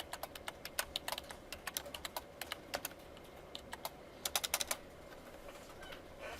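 Rapid irregular clicks of typing on a computer keyboard during a programming lecture, quick bursts of keystrokes with short pauses, fairly close and alone without talk over a low room hum.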